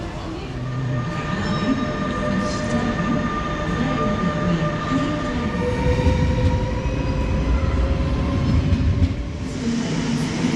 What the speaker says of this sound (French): L'ambiance des gares françaises. Un petit peu bruyant.